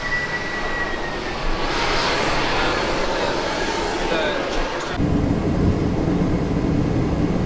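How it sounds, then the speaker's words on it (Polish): Inside a private plane flying from Los Angeles to San Francisco, a steady broadband engine roar fills the cabin continuously, shifting in tone partway through, with no clear voices. "Więc to jest samolot, którym lecę do San Francisco."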